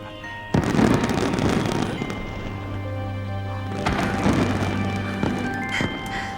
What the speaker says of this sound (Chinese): 好漂亮的烟花，看来大家都在庆祝守城成功。